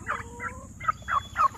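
A young turkey gives several short, squeaky chirping calls in quick succession, high and thin, close by with brief pauses between.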